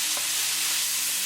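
Tomatoes and green chili in hot tadka are stirred in a pan, a dense, loud, continuous sizzle with a faint scrape of the spoon.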